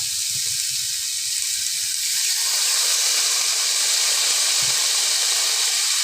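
Water splashed into a covered pan of frying fish and greens sets off a steady rising hiss of sizzling steam, close and continuous, swelling after the first couple of seconds and holding loud to the end.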